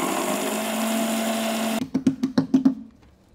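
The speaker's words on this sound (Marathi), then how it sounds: "आता जितकं शक्य होईल ना तितके हे बारीक दळून घ्यायचे." A mixer grinder whirs steadily as it grinds about a cup of poha fine, then switches to a quick series of six or so short pulsing bursts before it stops.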